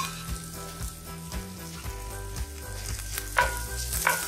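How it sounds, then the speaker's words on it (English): Chopped garlic and ginger frying in oil, a soft continuous sizzle with a few faint stirring clicks and a couple of sharper spatters near the end. "Roast the ginger and garlic."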